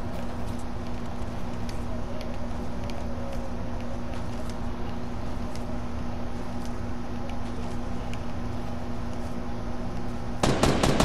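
Sporadic gunshots crack at a distance in a Fortnite Battle Royale match, scattered over a steady background hum, before a louder, closer burst of rapid fire at the very end.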